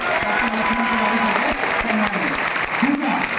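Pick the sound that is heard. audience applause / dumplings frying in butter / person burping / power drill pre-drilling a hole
audience applause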